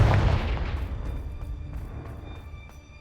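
A fire spell explosion from Confringo in Hogwarts Legacy, a deep boom at the start that fades away over a few seconds, followed by faint clicks and a quiet rumble.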